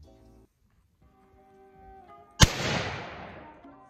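A single loud rifle shot cracks out during outdoor target practice, a sharp report followed by a decaying echo rolling away for over a second, preceded by quiet ambient hum.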